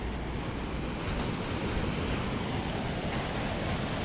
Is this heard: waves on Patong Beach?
yes